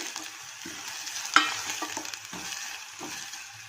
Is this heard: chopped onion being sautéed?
yes